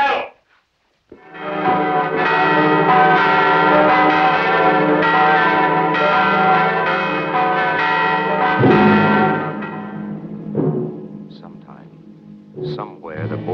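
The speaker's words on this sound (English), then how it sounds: "Ring the bell!" A church bell peals heavily in a 1949 period film set in Borgia-era Italy, a loud sustained ringing tone with rich overtones, followed by scattered clanks and noise as it dies away.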